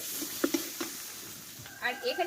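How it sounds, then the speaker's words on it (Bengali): Spiced vegetarian masala for a Bengali-style brinjal dish being stir-fried in a pan, with a few soft scraping strokes over a low sizzle, then brighter clinking near the end; quiet and close. "দেখো মশলাটা কিন্তু সম্পূর্ণ আমি ভালোভাবে কষে নিয়েছি"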